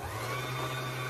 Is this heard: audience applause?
no